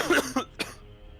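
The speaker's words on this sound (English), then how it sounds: "Got this cough." A few sharp coughs from a person in a small group of tabletop role-playing players, two or three bursts close to the microphone in quick succession, with a quieter room after.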